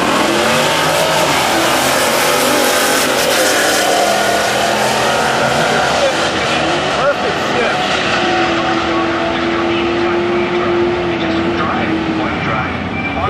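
A Pontiac LeMans with a 455 engine at a drag race, loud sustained engine roar with a rising tonal whine near the end, crowd noise and voices mixed in throughout.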